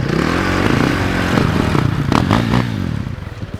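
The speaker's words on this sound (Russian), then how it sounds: "А еще так можно завести мотоцикл с толкача." An enduro motorcycle is push-started; the engine catches with a rough, uneven chugging and revving, mixed with clattering and scraping, close and loud throughout.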